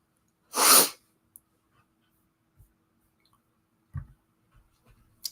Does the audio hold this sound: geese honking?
no